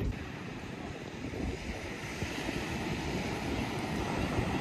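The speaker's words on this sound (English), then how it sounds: "And then we have the ocean literally right there" Ocean surf breaking on the New Zealand South Island coast, a steady broad wash of waves with wind buffeting the microphone, fairly loud and continuous with no voices.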